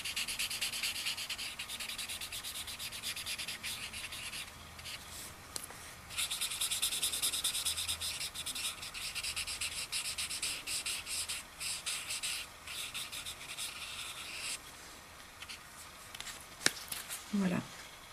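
A Graph'it blender marker rubs across paper, blending marker colours on a stamped image into a smooth surface: steady, close, scratchy strokes that run on with brief pauses and a faint voice in the background.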